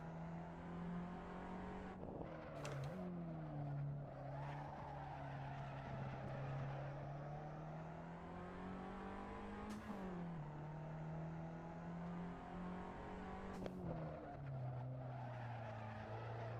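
A Fiat 500 race car drives laps in iRacing, its engine droning steadily with brief gear-shift dips and repeated short tire-squeal bursts, all faint and distant.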